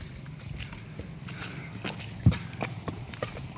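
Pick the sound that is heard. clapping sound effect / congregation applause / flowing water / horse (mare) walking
horse (mare) walking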